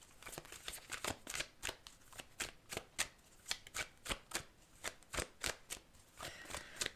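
Tarot cards being shuffled and handled, a rapid run of crisp riffling slaps and flicks repeating in an irregular rhythm, close and clear with no talking.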